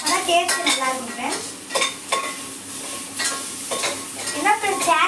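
Onions sautéing in a pan until brown, with steady sizzling under repeated scraping strokes of a spoon stirring against the metal, close and fairly loud.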